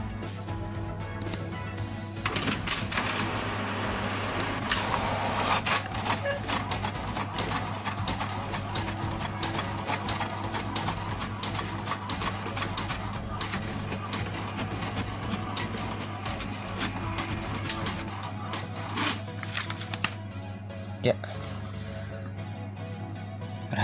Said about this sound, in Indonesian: Sekarang kita tes fotokopi hitam.